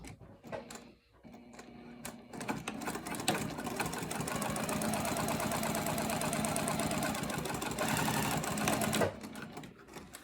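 A sewing machine stitches along the folded edge of a fabric wallet, starting after a few handling clicks and running in one long steady whir before slowing to a stop.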